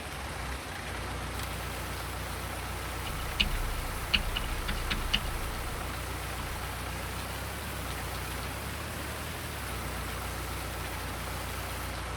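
Steady rain in the Farming Simulator 19 video game, an even hiss under a low engine-like hum, with a few faint ticking clicks in the middle and no talking.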